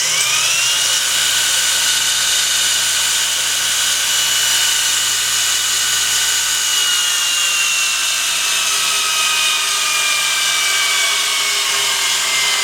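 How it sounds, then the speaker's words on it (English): A jet grinder in a knife-making workshop runs steadily throughout, a loud, sustained high-pitched whine with a faint rising tone at the start and no voices over it. "it'll probably be this jet grinder because it generates a lot of momentum"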